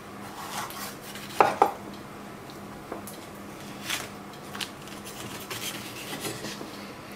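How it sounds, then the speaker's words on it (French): Knife cutting peppers into thin strips on a board, a few sharp taps early on followed by quieter, irregular cuts and light scraping in a kitchen. "On va les couper en fines lamelles."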